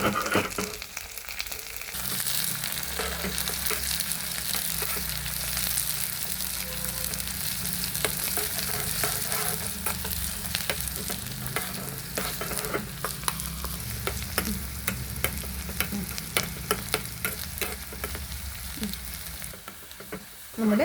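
Mustard seeds, shallots, dried chilli and curry leaves frying in hot oil, a steady loud sizzle with scattered sharp pops and crackles running throughout, no voices.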